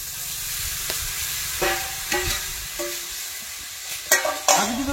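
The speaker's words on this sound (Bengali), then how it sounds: "এবার আমি এর মধ্যে দিয়ে দেবো" Half-mashed boiled potatoes and dried peas stirred into a frying pan, soft sizzling beneath a few scraping, clattering stirs of the spoon, close and alone without speech.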